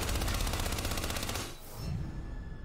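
Gunfire in Hitman 2, a rapid machine-gun burst of loud rattling shots that stops abruptly partway through, followed by quieter background noise.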